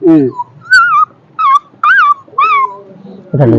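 A voice imitates a dog with short whimpering yips, several high squeaky cries in quick succession, close and clear.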